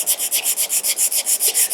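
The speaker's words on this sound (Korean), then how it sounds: "집에서 간단하게 이런 샌드페이퍼라고 그러죠. 종이사포 이런 걸 가지고 그냥 갈아냅니다." Sandpaper rubbed by hand over oil-finished solid wood furniture, about a dozen quick, even back-and-forth scratchy strokes in steady rhythm, close and clear with no voices.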